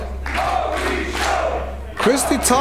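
A wrestling arena crowd at an Unlimited Wrestling show cheers and shouts steadily for a young wrestler, with a broad, loud roar throughout and a louder swell of yells near the end.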